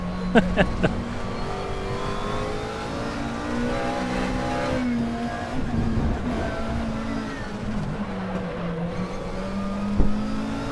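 McLaren 12C GT3 race car engine at the Sachsenring circuit in a GT racing game, a loud sustained howl with climbing and dropping revs through gear changes, a few sharp clicks at the start and a thump near the end.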